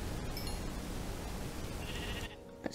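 A sheep in Minecraft bleats against a dense, noisy game backdrop, the call close and fairly clear before the sound cuts away.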